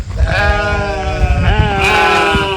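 A sheep bleats up close in two long, wavering calls, loud and clear over a low background rumble on a small farm.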